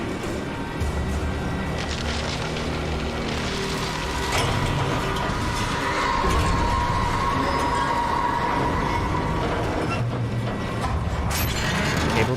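Cable car machinery in the video game Alan Wake Remastered gives a continuous, rumbling mechanical drone with a faint metallic whine, steady throughout.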